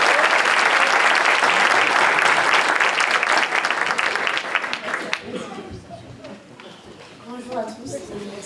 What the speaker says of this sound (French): Est-ce qu'on peut l'applaudir une dernière fois pour l'entendre?